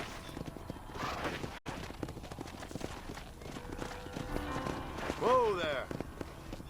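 Horse hooves clip-clop at a run in the Red Dead Redemption video game, with a brief neigh near the end, under a steady bed of game ambience.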